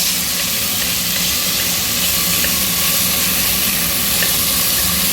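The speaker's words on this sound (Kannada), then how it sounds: "ಹೆಸರುಬೇಳೆನೂ ಕೂಡ ಸೇರಿಸ್ತಾ ಇದ್ದೀನಿ. ಇದನ್ನು ಸ್ವಲ್ಪ ನೀಟಾಗಿ ಫ್ರೈ ಮಾಡಿಕೊಂಡು" Moong dal fries in a pan while pongal is being cooked, giving a loud, dense, unbroken sizzle and hiss that stays close and constant with no voices.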